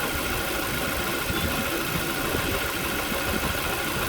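A Mazda 3 engine idles steadily during an AC system recharge with refrigerant, a constant close mid-pitched hum with a slight rough vibration and no voices.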